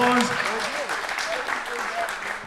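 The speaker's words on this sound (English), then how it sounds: "give him a round of applause" A gathering in Philadelphia applauds a community guest, with clapping running under voices that speak over it throughout.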